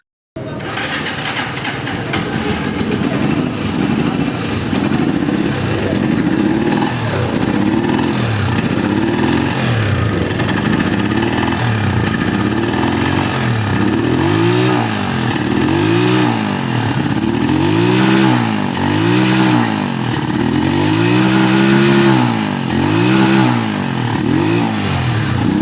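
A motorcycle engine suffering from black exhaust smoke runs close and loud throughout, with repeated rhythmic revving swells that rise and fall in pitch over a steady rumbling base.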